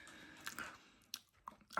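Someone chewing a vegetarian crunch roll sushi, with a few soft, close biting and crunching bursts spaced out over quiet mouth noise.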